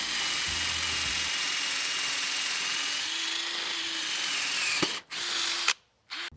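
Ryobi cordless drill boring with a spade bit that wobbles: a steady, loud whirring drone lasting several seconds, then cutting out abruptly with brief stops and restarts near the end.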